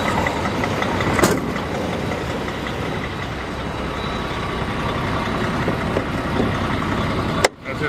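A truck engine idles steadily through the whole stretch as a continuous low rumble, with a sharp clunk near the start and another abrupt knock near the end.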